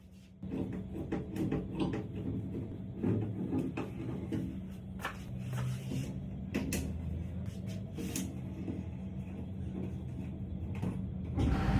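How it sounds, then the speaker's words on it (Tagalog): Fitting a hook onto a door in a new condo unit, a run of scattered close knocks, creaks and clicks of handling and fastening over a steady room hum, with no talk. "Sinunod ko na munang ikabit tong hook sa pinto para maisabit ko na yung iba kong gamit dito."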